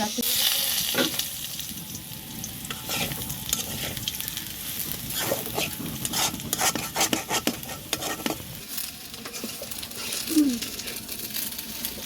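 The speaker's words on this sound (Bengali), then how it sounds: "আলুটাই তো ভাজা হয়ে গেল এখন আলুটা তুলে দেবো" Potatoes sizzle steadily in a hot pan while a utensil stirs and scrapes in bursts, close and fairly loud, with no talking.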